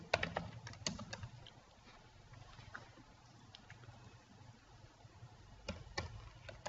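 Typing on a computer keyboard while CSS border properties are written out, a steady run of light, quick clicks and taps with a few sharper keystrokes, close and fairly quiet with no talk over it.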